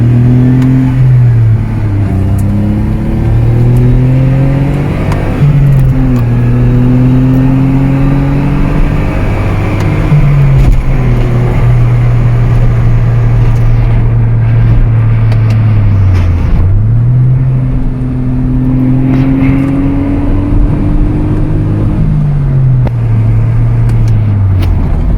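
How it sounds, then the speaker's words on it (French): A 2004 Smart Roadster Brabus with a 700cc three-cylinder engine accelerates out of bends on a road, loud and close from inside, its engine note repeatedly rising through the gears then dropping at each shift. "Même les reprises là, en sortie de virage, il n'y a aucun problème, la voiture répond."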